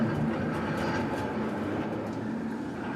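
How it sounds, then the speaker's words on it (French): Vintage local tram departing at the light-railway heritage centre in Thuin, Belgium, a continuous rolling rumble with faint rail clatter, moderately loud and steady throughout. "Départ du tram pour l'Aube, en voiture."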